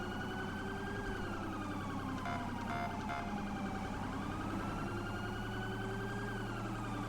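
A police siren in the video game LSPDFR wails, rising and falling continuously over a steady engine drone, loud and sustained, with a few brief sharp tones near the middle.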